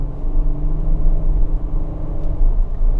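A Kia Carnival SX front-wheel-drive minivan on winter tires during a handling test, its engine and road noise a steady, loud low rumble with a slight rise in revs as it corners, heard from inside the cabin.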